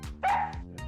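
A small dog lets out one sharp, loud bark, close up, with softer yips around it.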